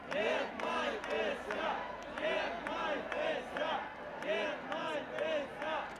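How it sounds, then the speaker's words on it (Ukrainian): Rally crowd at a gathering marking the Shevchenko bicentenary, loudly shouting approval in repeated rising waves of massed voices, each burst swelling and fading across the whole stretch, close and dense with no single speaker standing out. "Слово служителя Української православної церкви Московського патріархату зустрічають схваленням та вигуками."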